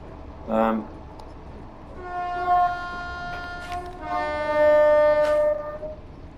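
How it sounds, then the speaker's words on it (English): A deep, sustained electric train horn in a train simulator game sounds twice, each blast held for about two seconds, after a brief chirp at the start. "And of course the horn."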